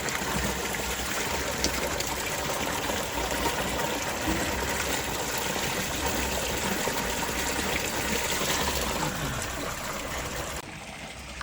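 Spring water runs steadily out of a hose into a bottle, a continuous gushing and splashing that holds an even level close by before cutting off near the end.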